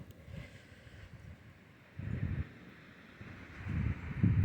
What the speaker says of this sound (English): Wind is still brutal.